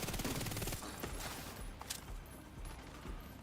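Rapid bursts of automatic gunfire from a weapon in The Division 2 rattle out in a dense fusillade at the start, then thin into scattered shots and faint impacts that fade toward the end.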